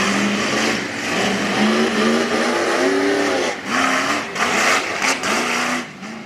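Tough trucks race on a dirt track at a STORM Tough Truck Racing event in Pittston, PA, their engines revving hard and rising in pitch through repeated accelerations, loud and close, with brief drops between bursts.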